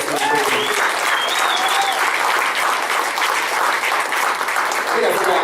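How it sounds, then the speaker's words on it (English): An audience at a veterans' arts showcase claps loudly and continuously, a dense sustained wash of applause with a few cheers and whistles mixed in. "I want another round of applause for Jesse."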